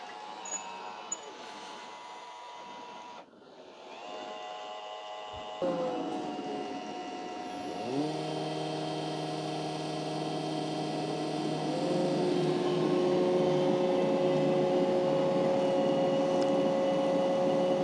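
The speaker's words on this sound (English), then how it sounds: "I'm simply going to press my clean button on the robot, and it's going to clean" An iRobot Roomba j7+ robot vacuum powers up and starts cleaning, its motor tone rising in steps into a steady whirring hum with a higher tonal whine layered on top.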